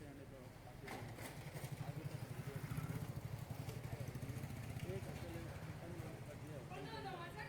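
An auto rickshaw ride through the streets of Bikaner, the small engine puttering with a rapid, steady throb up close, joined by faint street noise and a brief horn-like tone near the end; voices talk faintly over it.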